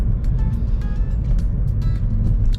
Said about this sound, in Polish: Zaledwie słychać szelest opon w środku.